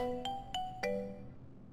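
A phone ringtone sounds at a police outpost with three bright, bell-like chime notes in quick succession, each ringing on and fading, close and clear with no talk over it.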